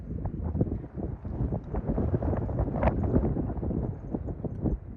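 Wind gusts across an open overlook on Laguna Mountain near San Diego, buffeting the microphone with an uneven rumbling roar for the whole stretch, with no voices.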